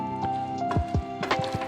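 Brinjal, potato and capsicum being stirred with masala in a pan, soft wet squishing and scraping strokes at an unsteady pace, quiet and close, over a faint steady hum.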